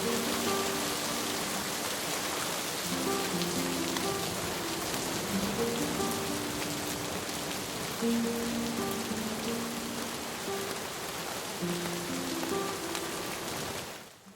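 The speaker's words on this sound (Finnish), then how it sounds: "Yöllä alkoi sääennusteen lupaama vesisade" Steady rain falls on a campsite in the fell wilderness of the northern highlands in September, a dense continuous patter that stays even throughout and fades out at the very end.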